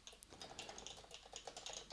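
Brisk typing on a computer keyboard while writing Rust code, a quick irregular patter of close, clicky keystrokes, fairly quiet and with no voices.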